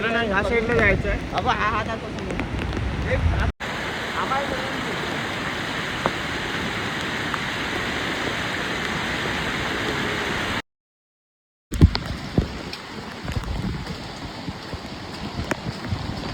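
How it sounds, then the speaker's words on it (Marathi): River water rushes steadily at a monsoon river crossing on the Khireshwar route to Harishchandragad, a broad continuous roar heard up close, with people talking over it and a short gap partway through. "थोडं पुढे आलोय आणि परत इथे नदी आहे हे बघा नदी क्रॉस करते आता"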